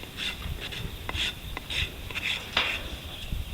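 A rasp levels a horse hoof in repeated short scraping strokes, close and fairly quiet, irregular rhythm of rough filing passes.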